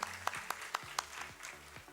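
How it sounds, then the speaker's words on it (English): Quiet applause welcoming the chief guest at an annual planning convention, faint and distant, with a few sharp evenly spaced thumps over a soft background of clapping. "can we please have a huge round of applause to welcome her"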